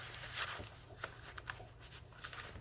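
Soft papery rustling and flipping of handmade paper flaps and folds in a Stamperia Shabby Rose vintage journal being opened and pulled out, faint and close, with a few light taps.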